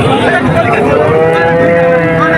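A cow at the Betaga cattle market lets out a loud, close, drawn-out moo that fills the whole moment, with faint crowd voices behind it.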